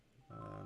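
A steady electronic telephone tone begins partway through, a sustained pitched beep ringing out fairly loud and unbroken after a quieter lead-in, with no talking over it.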